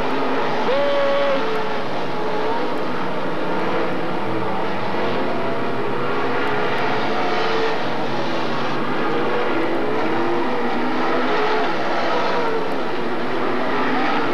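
Dirt track race cars on the last lap at Magic City Speedway in Billings, Montana, a continuous loud engine roar that swells and fades slightly as the pack circulates, with no break.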